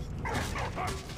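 In the video game Valiant Hearts, a dog gives a couple of quick yipping barks, close and moderately loud over a dense background of game sound.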